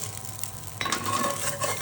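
Indori-style poha stirred in a pan over a low flame, with a faint steady sizzle and then a scraping, clinking stir of the spoon against the pan.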